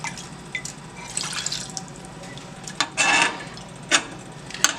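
Water is poured over rice in a cooking pot for a Bajan-style dinner, giving intermittent splashes and drips against the pot. A fuller burst of pouring comes near the end, amid light clinks.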